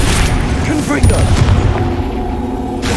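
Several booming blasts from the Confringo spell in the Hogwarts Legacy video game, heavy and crackling, overlapping with other loud game effects.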